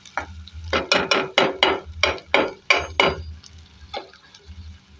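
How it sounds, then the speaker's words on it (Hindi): Garlic, green chillies and onion fry in a pan with a string of rhythmic scraping, sizzling bursts as they are stirred. The strokes are close and fairly loud, and the pan is briefly quieter near the end. "ये नाज़रीन फ्राई हो रही है लहसुन और हरी मिर्चें और प्याज, तीनों चीज़ें।"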